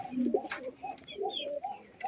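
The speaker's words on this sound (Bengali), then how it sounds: "দেখুন কবুতরগুলো আমার কি সুন্দর সারি সারি হয়ে বসে আছে" Pet pigeons perched side by side in rows coo in soft, repeated throaty calls, close and clear, with several birds overlapping in a gentle rhythm and no talking.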